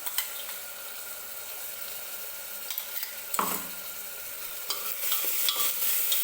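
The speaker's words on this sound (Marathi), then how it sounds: "परतून घ्यायचं आहे आपण हे वाटण वगैरे जे तयार केलं आहे ते." A fresh coconut masala paste for a green chickpea curry sizzles in a pan, with a soft constant frying hiss, a few scrapes of stirring and a brief louder clatter midway.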